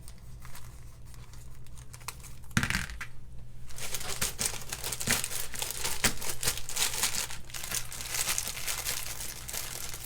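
Wrapped Valentine Snickers candy bars are dropped and arranged in a candy bowl, giving a steady run of close crinkling wrapper rustles and light clicks with no talking.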